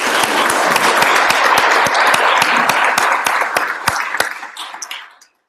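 Audience applause in an indoor gathering, steady dense clapping with a few sharp individual claps standing out, holding strong before tapering and thinning out toward the end.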